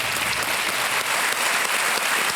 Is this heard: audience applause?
yes